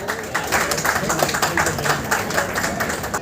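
Audience clapping at a Tamil association's award ceremony, a dense, even round of applause from a seated crowd, continuous and moderately loud throughout.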